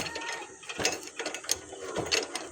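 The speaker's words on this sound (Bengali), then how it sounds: "এই যে আমাদের এটা আস্তে আস্তে টাইট দিতেছি" A ratchet clicks in short repeated bursts while tightening the chain sprocket nut on a motorcycle, close and crisp with brief pauses between strokes.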